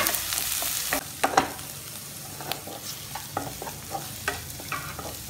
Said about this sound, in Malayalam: അതിലേക്ക് കട്ട് ചെയ്ത് വെച്ച ഇഞ്ചിയും ഒന്ന് ചതച്ച് വെച്ച വെളുത്തുള്ളിയും കൂടി ചേർത്ത് കൊടുത്ത് നന്നായി വഴറ്റിയെടുക്കാം.